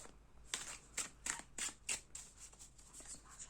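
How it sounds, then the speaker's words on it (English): Tarot cards being shuffled by hand nearby, a run of about seven quick, crisp riffling bursts at a steady rhythm, fairly quiet with no talk. "I will shuffle live for you guys"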